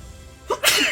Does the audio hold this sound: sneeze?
yes